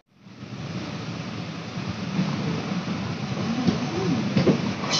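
The Uzhavan Express rolling into Mayiladuthurai Junction, a steady loud rumble of wheels and carriages that swells over several seconds, with a faint squeal near the end.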